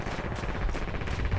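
Gunfire in the World War II shooter Red Orchestra, a dense, rapid burst of rattling shots packed close together, loud and continuous with no voices.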